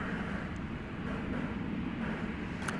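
Boeing 777 airliner flying over DFW Airport at night, a steady broad distant rumble and roar with no talk.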